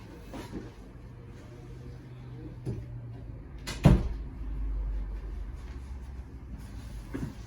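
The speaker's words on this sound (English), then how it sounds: "Sorry, I had to close the door." A door is shut indoors with a single sharp thud and latch click in the middle, surrounded by faint room noise and small scattered knocks.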